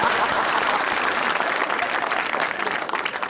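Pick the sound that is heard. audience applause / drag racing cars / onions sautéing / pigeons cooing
audience applause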